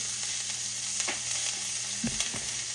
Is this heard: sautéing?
yes